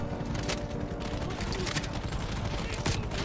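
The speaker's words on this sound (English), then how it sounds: "Damn, this gun really packs a punch." Gunfire from a high-capacity gun in Call of Duty: Black Ops Cold War, in a Russian mountain mission, rattles off in rapid, dense bursts over busy game noise and voices.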